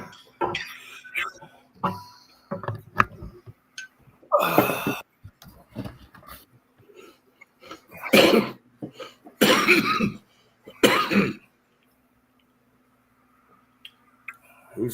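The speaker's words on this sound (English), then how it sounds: "Who's coughing? That's me." Several loud, close coughs burst out in irregular fits spread across the stretch, mixed with throat clearing, small clinks and scattered quieter noises, with long near-silent gaps between.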